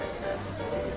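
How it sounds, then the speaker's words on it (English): Train wheels grind and squeal on the rails with a steady metallic screech over a constant rumble of the moving carriage, sustained and even throughout. "That same metallic screech echoed faintly through the train"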